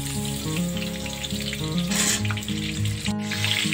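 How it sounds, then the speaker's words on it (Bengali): Halved potato pieces and chunks of papaya sizzle steadily in hot oil on medium flame while cooking for a mutton curry, a continuous close frying crackle with no voices. "এবার আলু ও পেঁপে পিসগুলোকে মিডিয়াম ফ্লেমে হালকা করে ভেজে নেব।"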